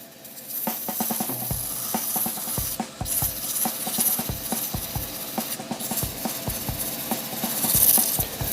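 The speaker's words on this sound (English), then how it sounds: "I'm just using this fairly coarse grit to actually just blend all the different curves together now" Coarse-grit sandpaper rubs rhythmically against a turned resin shaving brush handle, giving close, loud, repeated scratchy strokes that run continuously with brief pauses.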